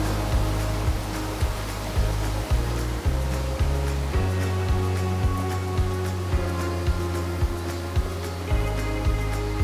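A waterfall at a shrine area in Shimane keeps up a steady wash of rushing water, mid-level and constant, broken by some low thumping footsteps or handling bumps.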